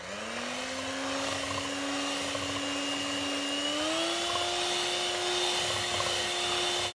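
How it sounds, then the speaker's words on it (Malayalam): An electric beater whirs steadily and loudly as it mixes powdered sugar into caramel batter for a plum cake. Its motor pitch rises slightly partway through and holds until it cuts off abruptly at the end, with no talking. "ഇനി നമ്മൾ നേരത്തെ പൊടിച്ച് വെച്ച പഞ്ചസാരയും കുറച്ചായിട്ട് ഇട്ട് കൊടുത്തിട്ട് ബീറ്റ് ചെയ്തെടുക്കാം."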